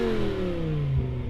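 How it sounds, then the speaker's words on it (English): A BMW M5 V10 engine revs, its pitch sweeping smoothly downward as the revs fall, loud and close with a rough mechanical undertone. "Let's hear that old M5."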